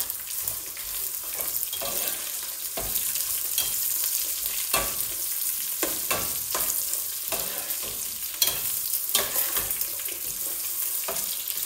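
Chiles, a piece of onion and two garlic cloves frying in a pan for banana-leaf tamale sauce, a constant close sizzle broken by repeated stirring scrapes and clacks of a utensil, alone.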